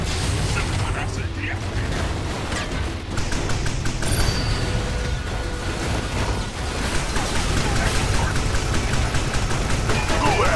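Gunfire at Decepticons in Transformers: Revenge of the Fallen, dense bursts of shots and booming impacts over a loud battle din, with voices talking throughout.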